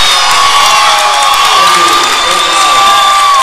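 Home crowd at a Greene County Tech high school basketball game, 2012, away at Beebe, roars in a gym, with a steady wash of cheering and shouting and a sustained whistle-like tone running throughout, loud and continuous.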